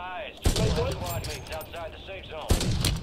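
Sniper rifle shots in the video game MW3 Warzone: two loud sharp cracks about two seconds apart, with someone talking throughout.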